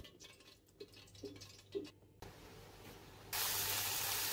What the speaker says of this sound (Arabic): نزلت بالرز وبديهم تسويحه مع بعض زي ما انتم ما شايفين